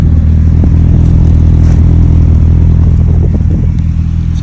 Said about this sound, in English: we'll let it sit here and run and idle for a minute